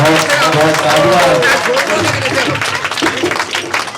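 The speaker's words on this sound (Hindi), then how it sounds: "आप ताली बजाइए इसके लिए" Audience clapping at a poetry and comedy stage gathering, mixed with voices and musical tones running underneath, fairly loud and continuous.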